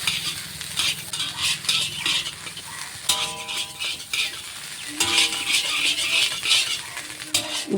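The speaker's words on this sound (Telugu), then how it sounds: "కొంచెం ఫ్రై అయ్యే వరకు కలుపుతూ ఉండాలండి." Chicken fried rice is stirred as it fries in a pan, its sizzle mixed with repeated scraping and clinking of a metal spatula against the pan, close and busy, with no voices.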